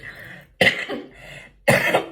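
Two sharp, loud coughs about a second apart, each a sudden harsh burst, close to the listener with no talking around them.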